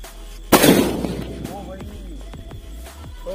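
A single sharp Diwali firecracker blast goes off nearby, loud and sudden, followed by a fading rumble and scattered crackles.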